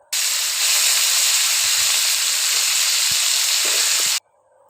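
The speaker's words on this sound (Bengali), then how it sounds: "আমি সুন্দর করে ভেজে নিয়েছি কাঁকড়াগুলো" Crabs sizzle steadily in hot oil in a frying pan, a loud continuous hiss that runs unbroken for about four seconds and then cuts off abruptly, with faint low clatter underneath.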